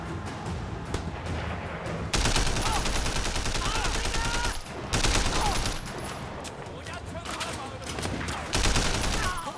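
Heavy gunfire in the open-world action game Sleeping Dogs, with sustained rapid bursts of shots and short pauses between volleys, loud and dense, with a player's voice faintly under the shooting.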